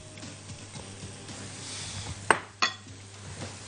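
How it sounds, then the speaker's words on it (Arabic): A bowl is set down and handled in a kitchen while vegetables go in, two sharp ceramic clinks standing out over soft rustling and a low background hum. "هنجيب بقى بوله عندي هحط فيها الحاجات"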